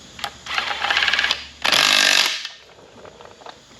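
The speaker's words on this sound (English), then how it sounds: "These bolts right here, we'll run them into the power head and torque them down them." A power tool driving bolts into the powerhead of a Mercury 50 hp outboard engine, heard as a short whirring burst followed by a second louder sustained run, close and alone.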